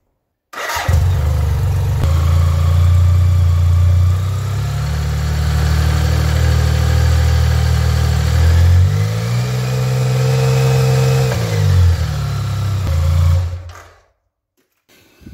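A BMW K75 motorcycle engine starts and runs steadily close by during a brake test, a smooth low hum with a brief change in pitch midway before it shuts off.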